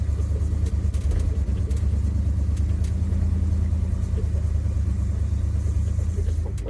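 A 1976 Ford F-150 Ranger engine stumbling as it labors up a driveway hill, a loud, close, uneven low rumble that stays steady throughout with no talk.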